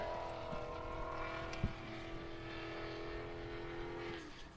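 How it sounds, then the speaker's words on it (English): A big block car engine revs with a sustained, rising tone at an Ultra 4 off-road qualifying event, heard from a moderate distance and fading toward the end. "you can hear that big block singing"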